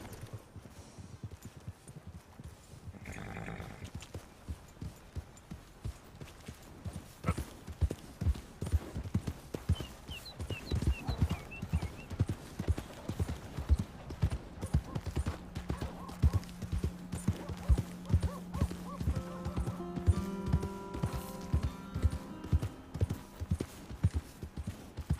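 Horse hooves clip-clop in a steady walking rhythm on a dirt path in Red Dead Redemption 2, fairly close and moderately loud, with faint ambient tones rising later.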